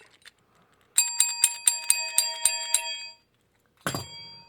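A bright, broken bell rings in a quick run of about eight dings, then falls silent before one last ring.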